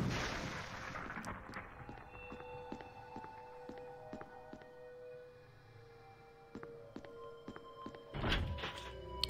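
Rusted-shut door in Resident Evil HD Remaster failing to open: a heavy thunk and rattle of the stuck door, with a sustained game ambience behind it and a louder burst near the end.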